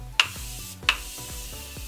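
A facial setting mist is sprayed in two short, close puffs of hiss about a second apart over a soft tonal background.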